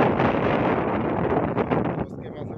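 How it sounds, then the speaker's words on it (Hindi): Strong wind blows dust across open village ground, buffeting the microphone with a loud, continuous roar that eases slightly near the end. "हवा चल रही है काफ़ी तेज़ और मिट्टी उड़ रही है।"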